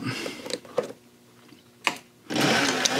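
A sewing machine runs in short bursts while stitching a seam on a kidney bean purse, with whirring stretches broken by pauses and a longer, louder run at the end.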